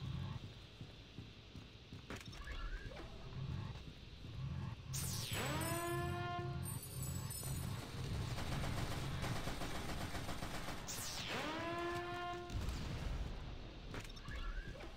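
Rapid bursts of gunfire in the first-person shooter game Shadowgun Deadzone, dense and continuous through the whole stretch with repeated shot volleys and game effects layered on top.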